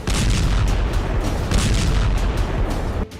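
Russian shelling strikes in Ukraine, a loud, dense barrage of booming blasts and rumble with sharp bursts layered over one another, continuing for about three seconds before cutting off abruptly.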